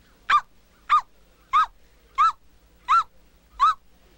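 A man imitates a dog barking, giving six evenly spaced, short, loud barks with clear pauses between them, close and with no other sound.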